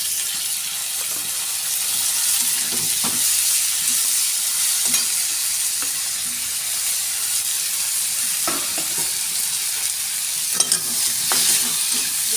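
Taro greens sizzle and fry in a pan with fried onion, garlic and chili, a steady loud crackling hiss broken by occasional scrapes and clinks of stirring.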